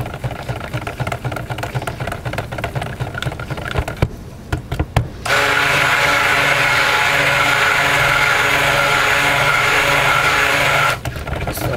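A steady, loud motorized whir of a stick blender mixing soap runs without a break for several seconds, preceded by stirring clatter and ending with a brief pause.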